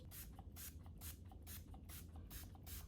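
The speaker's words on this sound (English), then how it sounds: "I'm just gonna spray a little bit of the Zero Chill face mist on my face." Zero Chill face mist sprayed onto a face in quick repeated hissing bursts, about six short pumps in an even rhythm, close and soft with no talking.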